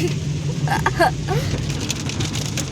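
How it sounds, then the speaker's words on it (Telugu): Steady heavy rain hisses and patters throughout, with a few faint, brief higher chirps rising over the downpour. "వర్షం అయితే చాలా ఎక్కువగా పడిపోతుంది."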